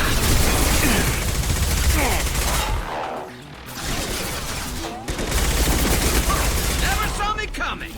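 Sustained automatic gunfire from Mass Effect 2, loud dense bursts of rapid shots with short pauses, layered with game voices and effects.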